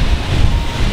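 Gusty wind roars steadily across the microphone outdoors on a sunny, windy day of fishing on the Nausta river at low water, a loud, unbroken rush with low buffeting rumble and no talk.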